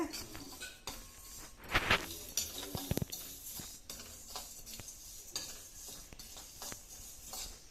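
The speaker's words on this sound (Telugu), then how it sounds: "మెంతులు, ఆవాల, జీలకర్ర ఇలా వేయించుకుని దోరగా దీన్ని వేయించుకున్న తర్వాత" Fenugreek, mustard seeds and cumin roast in a pan for koththimeera pachchadi, with soft spoon scrapes, light clinks against the metal and a faint sizzle, all quiet and close.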